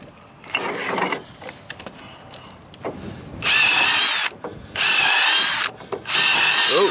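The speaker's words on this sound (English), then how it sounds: "now we're just gonna go ahead and pre-drill these two" A power drill pre-drills into wood for an A-frame goat playhouse, three loud whirring bursts of about a second each near the end, preceded by quieter handling knocks and clatter.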